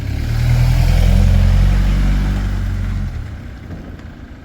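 A van engine runs close and loud on the drive to a storage unit, a steady low rumble that eases off and drops in level near the end.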